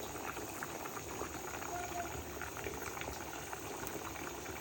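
A pot of Bengali egg and potato curry bubbling at a steady simmer on the stove, a soft continuous gurgle of rising bubbles, close but quiet with no voices.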